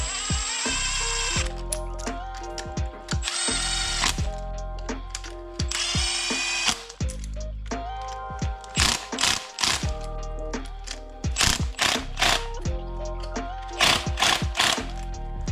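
Bolts being snugged down on a Honda CR-V transfer case during a reseal, heard as rapid bursts of ratcheting tool clicks and whirring mechanical runs, loud and close with brief pauses between passes.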